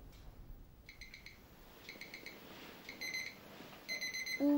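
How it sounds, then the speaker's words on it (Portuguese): A morning alarm clock rings in repeated short bursts of high electronic beeping, moderately faint with soft background noise, followed by a low rustle at the end. "Por volta das 7 horas, o despertador acorda-o."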